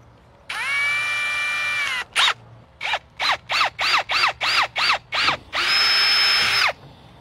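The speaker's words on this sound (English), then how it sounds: "you need to drill a 1/4 inch diameter hole in 4 corners of each shutter" A power drill boring a quarter-inch hole in a plastic shutter gives a long whining run, then a burst of about nine short rhythmic pulses, and ends with another sustained high spin. It sounds close, with no talking.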